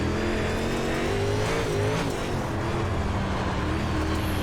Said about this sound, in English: We're just spinning the tires sideways there